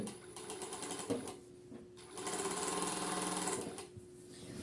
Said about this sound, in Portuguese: daí é só passar aqui a costura